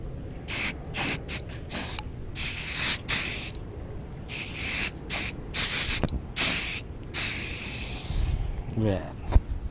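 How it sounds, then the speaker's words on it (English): Tire dressing sprayed onto a car tire in short close hissing bursts, several quick pumps in a row, while a person talks between sprays. "Spray it right on there."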